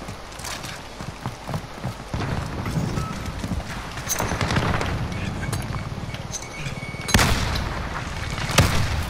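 Gunfire in the video game Call of Duty: Modern Warfare, with dense bursts of shots and sharp loud cracks near the end over continuous battle noise.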